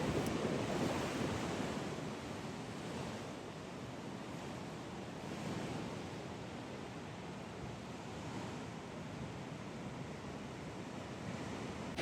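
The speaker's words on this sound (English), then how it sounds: "the sea was brave today, with close to 5 to 6 meter waves" Big ocean waves of five to six meters at Azenhas do Mar, Portugal, make a continuous broad roar of surf, with wind buffeting the microphone throughout and no voices.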